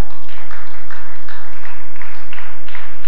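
Church congregation clapping hands during a worship service, a steady wash of many hands beating in rough rhythm, moderately loud with no voices over it.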